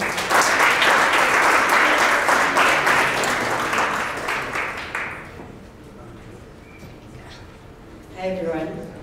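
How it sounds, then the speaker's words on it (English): A conference audience at a security summit gives a full round of applause, dense clapping that holds strong for about five seconds, then thins and fades as a voice begins to speak. "So please give her a round of applause."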